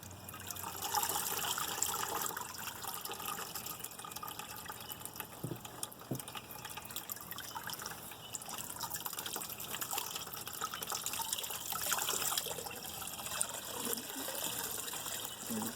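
Dandelion mead juice draining from a bucket as a bag is lifted out: a continuous hissing trickle and splatter of liquid with a few small drips, steady and fairly faint throughout.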